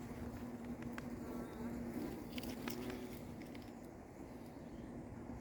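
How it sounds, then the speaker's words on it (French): A steady, droning buzz of many bees at a natural hive hums continuously, with a hornet nearby, faint outdoor noise and occasional light taps over it. "Un frelon vient de partir avec une abeille."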